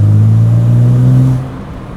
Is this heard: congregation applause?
no